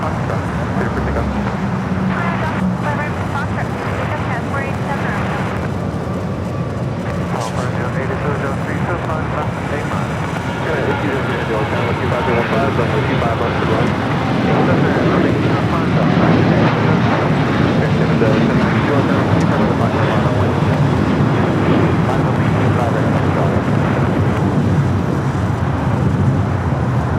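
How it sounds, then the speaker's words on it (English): A United Boeing 737-800 bound for Phoenix takes off from runway 25 right at Los Angeles International Airport, a loud, steady jet roar that swells and holds for the full stretch. "United flight heading to Phoenix, Arizona, 737-800"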